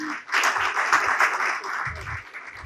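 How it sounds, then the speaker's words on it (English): Audience at a sustainable water management conclave in Maharashtra gives a warm round of applause for a guest speaker, dense and even clapping from a seated crowd with a few low voices underneath. "I request everyone to please give sir a big round of applause."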